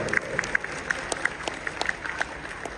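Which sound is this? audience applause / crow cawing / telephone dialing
audience applause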